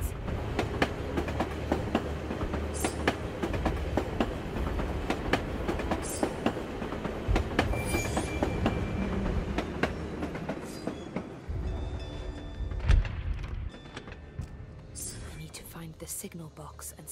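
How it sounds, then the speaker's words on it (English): Rail noise from a tram in Assassin's Creed Chronicles: Russia, a steady rumble with clickety-clack wheel beats and occasional squeals. It runs continuously at a moderate level and eases off toward the end. "This tram will take me to the edge of the Volga."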